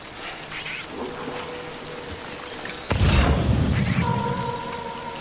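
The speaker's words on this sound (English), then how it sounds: "Hopefully the rain can end soon." Steady rain hisses throughout in the video game Death Stranding, with a sudden heavier rumble joining partway through, like a downpour intensifying or distant thunder.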